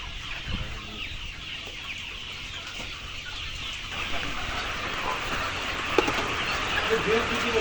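Layer hens at a poultry farm clucking steadily in the background while people talk nearby, with a faint low hum running underneath.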